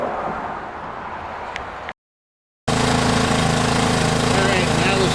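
Toro SnowMaster snowblower engine, heard first as a faint low rumble, then after a short silent gap as a loud, close, steady running drone.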